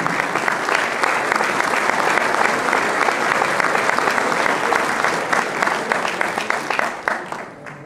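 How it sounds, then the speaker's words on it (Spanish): An audience applauds at a centenary ceremony with loud, sustained clapping from a crowd, steady throughout and tapering off at the end. "Con este aplauso le agradecemos muchísimo."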